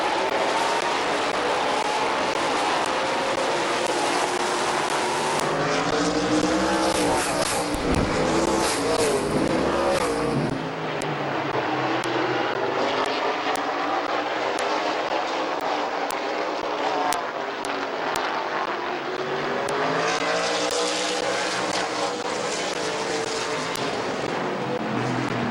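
Race cars lap Midvale Speedway, engines roaring past in loud continuous waves that rise and fall as the pack sweeps by, with a public-address voice talking over them.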